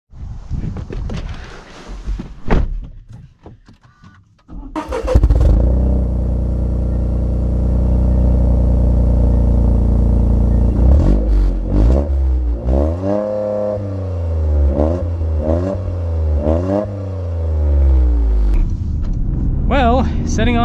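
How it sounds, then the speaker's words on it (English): A 2024 Toyota GR Corolla Core hot hatch sets off and accelerates, its engine rising and falling through several loud revving pulls close inside the cabin while a person talks over it. "Well, setting off in the GR Corolla."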